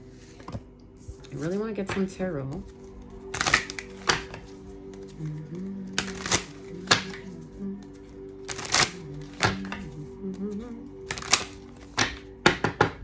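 Tarot cards are shuffled in a series of sharp riffling bursts, each about half a second long and recurring every couple of seconds, with a steady hum and soft murmuring voices underneath.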